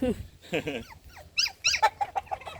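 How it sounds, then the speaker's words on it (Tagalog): A small dog, a puppy, yelps and whimpers in a series of short, high-pitched cries, fairly close. "May aso, may tuta."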